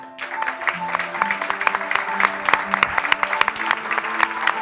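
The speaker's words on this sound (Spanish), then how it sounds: "tenemos que recibir a todos los invitados que tenemos hoy aquí con un fortísimo aplauso" An audience welcoming guests at a film festival event gives a loud, sustained round of applause with sharp, dense claps, while music plays underneath.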